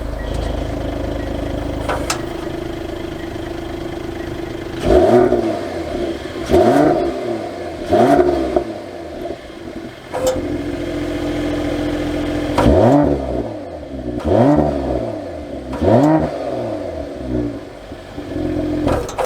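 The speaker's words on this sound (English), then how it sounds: "Let's listen to the exhaust." A 2022 Mercedes-Benz AMG GLE 53 SUV's exhaust blips through a series of sharp, loud revs in quick bursts, settling back to a steady idle between them, with no talking.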